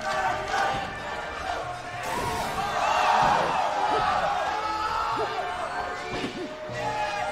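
A tournament crowd at a Super Smash Bros. Melee event roaring and cheering continuously, with swelling waves of noise and bursts of chanting, a commentator's voice talking over the din.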